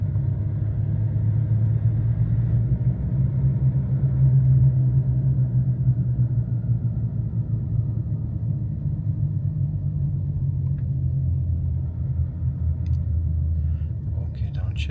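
A Range Rover L322 TD6 with an 8HP automatic gearbox driving from inside the cabin, a steady low engine rumble that rises and eases through gear changes, with a person talking over it.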